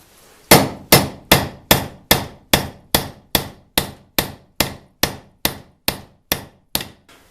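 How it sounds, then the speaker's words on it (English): A hammer drives a wooden wedge into the head of a sledgehammer being re-shafted by hand, striking about sixteen sharp, evenly spaced blows, close and loud, each ringing briefly before the next. "I have hammered as hard as I can"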